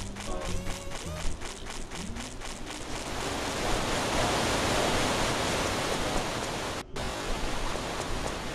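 A waterfall in the video game Chulip gives a steady, broad rushing hiss that builds after a few seconds of light game sounds, then holds constant with one brief dropout.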